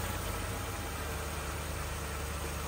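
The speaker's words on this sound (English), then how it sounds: "Okay, so the engine's running." A Ford F-150 engine idles steadily at low level, a constant low rumble with broadband hiss and no talking over it.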